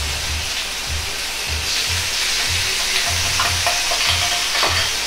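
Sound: pork and garlic chives sizzling in a pan as seasoning is added

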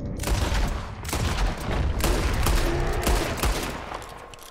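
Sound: gunshots at a bear in the video game Red Dead Redemption 2

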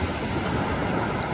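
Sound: sea waves on the beach at Lowestoft

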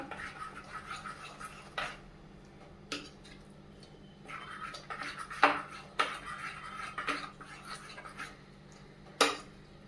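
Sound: whisking corn panki batter in a bowl

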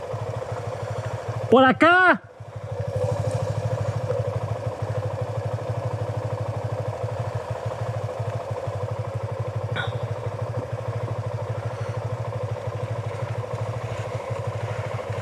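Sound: motorcycle engine shifting into second gear

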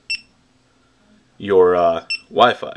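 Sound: GoPro camera beeping when located via app

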